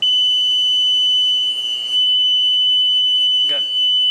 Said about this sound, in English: And here goes the panel alarm.